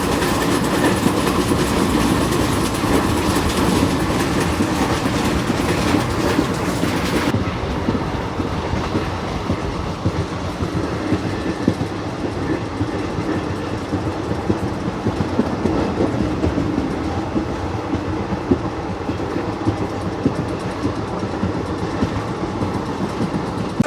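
The 19223 Sabarmati-Jammu Tawi Express runs on rails at Madar Junction, with a steady loud rumble and clickety-clack of the wheels continuing throughout and no voices.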